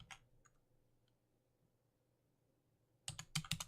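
Keystrokes on a computer keyboard while entering text into the GIMP image editor: a brief click at the start, then near-silence, then a quick close burst of typing at the end.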